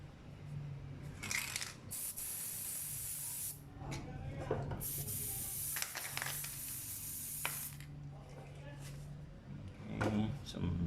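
WD-40 lubricant sprayed onto the hinge of a Hyundai Eon wiper motor assembly, several short hissing bursts of varying length up close over a steady low hum, with some voice present.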